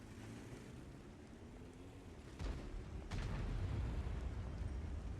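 A World of Tanks tank gun, a 60TP heavy firing armour-piercing rounds, booms twice in close succession, sharp loud blasts over a steady low battle rumble.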